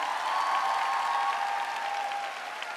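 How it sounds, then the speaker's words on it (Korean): Sustained audience applause at a live performance, dense steady clapping from a crowd, fairly loud and even throughout, then easing slightly toward the end. "우리 H&M 팀에 다시 한번 뜨거운 박수 부탁드립니다"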